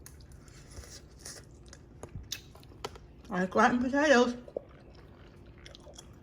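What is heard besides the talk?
chewing scalloped potatoes with cheese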